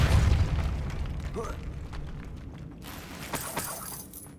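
A Depulso spell in Hogwarts Legacy goes off with a deep booming burst at the start, followed by shattering, crackling debris and scattered sharp impacts fading out.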